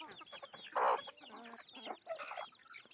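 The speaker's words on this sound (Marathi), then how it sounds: "माझ्या कोंबड्या आणि काही कोंबड्या फिरत आहेत हे बघा" Hens on a chicken farm cluck and chatter with their chicks nearby, a close, busy run of short calls with one louder squawk near the start and softer clucks continuing after it.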